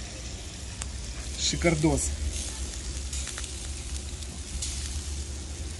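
Herring skewers sizzle steadily over a charcoal mangal grill, a close, constant hiss and crackle running throughout, with someone speaking briefly over it.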